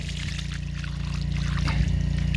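Water running from an old 47-metre borehole, a steady close pouring trickle with a low rumble underneath, continuous and fairly quiet.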